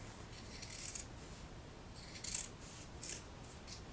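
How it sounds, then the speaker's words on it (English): Scissors snip through a cotton t-shirt close to the collar seam in short crisp bursts, quiet and near, with pauses between clusters of cuts. "you're just going to cut close to the seam all around the back"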